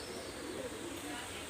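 Pigeons, a new Idal breed among Pakistani high-flyer birds, coo softly in a noisy loft, low murmuring calls recurring under a steady broadband hiss.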